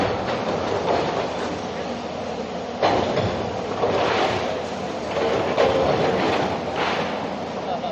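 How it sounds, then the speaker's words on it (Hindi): A bulldozer tears down a wedding hall building, producing a loud, continuous mechanical rumble broken by heavier crashing impacts, with a reporter speaking over the noise. "बुलडोजर का पंजा इस वक्त वाजिद बेग के इस साम्राज्य को ध्वस्त करने पर जुटा हुआ है"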